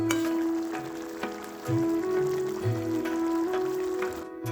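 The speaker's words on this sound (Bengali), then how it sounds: "তরকারিটা টকবক করে ফুটিয়ে নেব" Vegetable cauliflower curry boiling in a pot, a steady bubbling and sizzling patter with small pops, close by and continuous, under a faint background hum.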